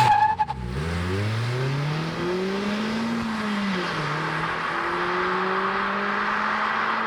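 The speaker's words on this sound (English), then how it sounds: "Jacob, now we're gonna launch the MX-5" A 2023 Mazda MX-5 RF engine revs up hard from a standstill with a brief tire chirp, then pulls through a gear change and keeps accelerating loudly.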